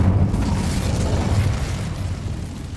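Incendio fire spell cast in Hogwarts Legacy: a loud, sustained whooshing roar of flame with a booming low rumble that slowly fades across the burst.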